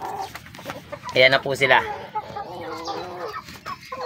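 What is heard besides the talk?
Rhode Island Red chickens clucking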